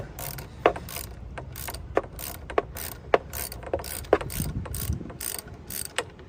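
A ratchet works tight bolts loose on a one-year-old Can-Am Ryker 900 Sport motorcycle, producing rapid, close clicking strokes in a repeating rhythm with occasional sharper knocks.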